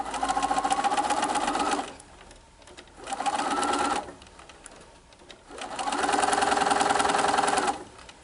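A sewing machine stitching quilt fabric runs in three steady whirring bursts, buzzing loudly and close, separated by short quiet pauses.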